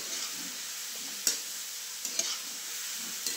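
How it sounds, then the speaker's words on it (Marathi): Onion fries in a pan with a soft steady sizzle, punctuated by a few sharp clicks of a spatula against the pan, quiet and close with no speech. "कांदा चांगला लाल भाजून घेते"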